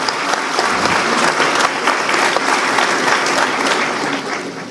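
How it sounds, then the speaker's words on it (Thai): Dense, loud applause from a large audience, sustained clapping throughout that tapers slightly at the end. "ขอเสียงปรบมือดังๆให้กำลังใจท่านคนดิเดตของเราอีกครั้งหนึ่งครับ"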